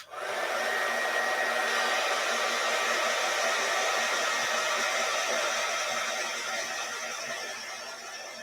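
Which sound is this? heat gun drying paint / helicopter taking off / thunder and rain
heat gun drying paint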